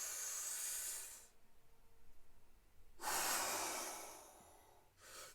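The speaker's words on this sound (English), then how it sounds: "Inhale again. Breathe." A deep, slow inhaling breath during a guided meditation, close and breathy, with a pause before the next breath starts and another brief breath at the end.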